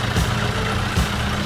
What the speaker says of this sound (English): this is his 1949 Farmall C